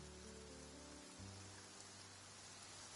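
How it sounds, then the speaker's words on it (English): Rain falls steadily in Genshin Impact, a soft continuous hiss of drops on surfaces under a faint layer of ambient game music. "It's raining."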